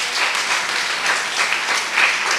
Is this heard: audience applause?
yes